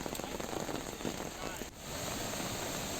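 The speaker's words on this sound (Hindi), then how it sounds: "देर रात से यहाँ पर भारी बारिश हो रही है" Heavy overnight rain pours down steadily in Mussoorie, a dense, continuous hiss of drops hitting surfaces that barely changes across the clip.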